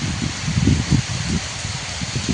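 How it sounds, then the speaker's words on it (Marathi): Steady rain falls outdoors in a village, a dense continuous hiss with a low rumble of gusts and rustling underneath, fairly loud and close throughout with no voices. "बघा पाऊस असा आहे बघा आहे का असा"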